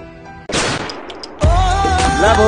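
Gunshot from a gun held reversed: two loud, abrupt blasts with ringing, tonal tails, close and dominant, with no talking.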